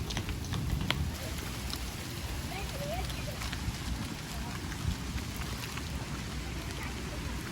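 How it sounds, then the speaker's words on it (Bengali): Rain begins falling outdoors at a resort on a family day trip, a soft steady patter of scattered drops mixed with wind and low background rumble. "বলতে বলতে বৃষ্টি নেমে গেল"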